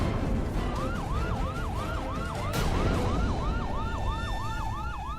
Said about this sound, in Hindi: ये सायरन की आवाज सुन रहे हो तुम दोनों?